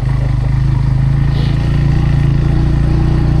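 A Bajaj Pulsar N160 motorcycle being ridden, its engine running steadily with a loud, continuous low drone and no pauses, close and unbroken throughout.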